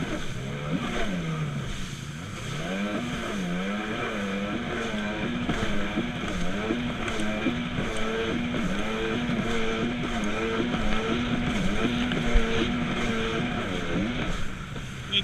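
A Seadoo XP 800 jet ski engine on a lake drones and wavers, its pitch repeatedly sagging and surging as it bogs down, loud and continuous with no talk.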